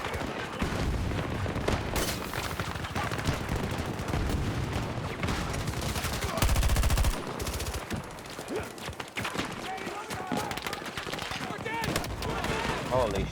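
Video game gunfire in bursts of rapid automatic shots and heavier booms, continuous and dense throughout, with players talking excitedly over the shooting.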